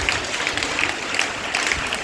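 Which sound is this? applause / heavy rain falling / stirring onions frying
applause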